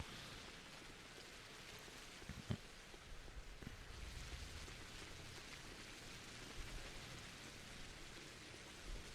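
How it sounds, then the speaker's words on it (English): Steady rain falls on the streets of an Eastern European town in the game Pathologic, a soft, constant hiss of drops with a few faint louder taps. "a quick walk through the rainy streets of an Eastern European town"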